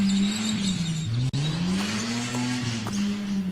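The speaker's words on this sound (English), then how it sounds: "The sound of morning bird song and burnouts at Elizabeth South." Car doing burnouts at Elizabeth South, engine note rising and falling with a continuous tire squeal, loud and close, lasting throughout with no talk.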